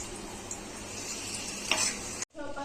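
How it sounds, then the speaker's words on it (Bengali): Dry red chillies fry in hot oil for a chicken and potato curry, a steady close sizzle with a brief stir that cuts off abruptly near the end. "আমি শুকনো লঙ্কা দিয়ে দিয়েছি তেলে"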